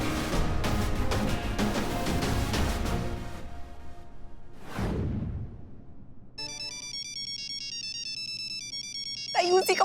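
Phone ringtone in a Hindi TV comedy scene, a bright electronic melody ringing steadily and fairly loudly for several seconds after a stretch of music and a whoosh.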